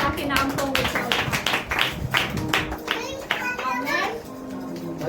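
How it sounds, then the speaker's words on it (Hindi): A church congregation claps their hands in praise, with many overlapping claps mixed with children's voices and chatter, steady and fairly loud throughout. "आइए हम खुदावंद यीशु का धन्यवाद दे, तालियां बजा करके उस खुदा के नाम को ऊंचा उठाएं।"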